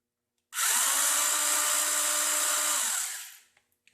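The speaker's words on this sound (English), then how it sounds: "we're just going to want to drill a hole anywhere" A power drill drilling holes whirs at high speed for about three seconds, a loud, steady buzzing that starts abruptly and winds down at the end.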